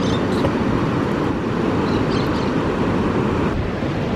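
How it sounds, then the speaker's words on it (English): Ocean waves roll in as a continuous roar of surf with wind noise, loud and close, a broad steady rumble that swells slightly without any voices. "I'll show you guys a quick clip of the waves"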